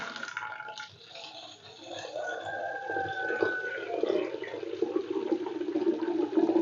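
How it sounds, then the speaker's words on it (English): Water pours steadily into a pot, a rushing, splashing stream that grows fuller and louder as the vessel fills. "let's put some water"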